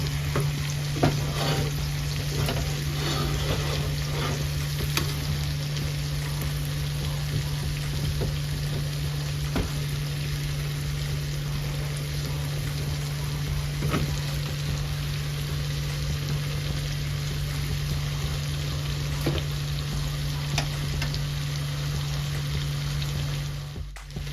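Pork chops sizzling in a pan on the stove, a steady loud hiss with scattered pops and spits throughout, alongside a constant low electrical hum, no talking.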